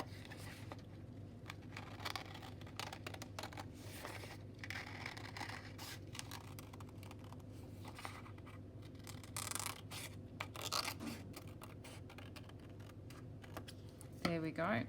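Scissors cutting paper during a children's sun collage craft, a long run of soft, rapid snipping and paper rustle heard close, with a voice speaking quietly in the background.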